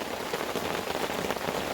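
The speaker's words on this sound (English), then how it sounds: "I think the rain has us hamstrung for the moment" Steady rain falls on surfaces at a wooded campsite in North Carolina, a dense, continuous patter close by and fairly loud throughout, with no voices.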